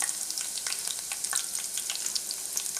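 Garlic frying in hot oil until browned, for a Tamil kara boondi snack: a steady, dense sizzle with bright crackling pops, close and even throughout, with no voices.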